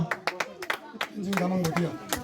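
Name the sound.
audience clapping for Master Tenzing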